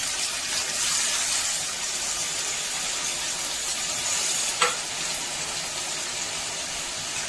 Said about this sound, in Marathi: मिरची आता परतली गेली म्हणजे तळली गेली मिरची. तर आपल्याला आता ही बटाटे त्यामध्ये ऍड करायचे.